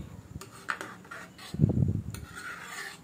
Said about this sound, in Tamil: தண்ணி சேர்த்துட்டு ஒரு வாட்டி கலந்து விட்டுக்கோங்க.